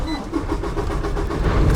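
A truck's ignition turning over inside the cab, a steady close engine and electrical whir building across under two seconds, with faint rhythmic ticking and no voices.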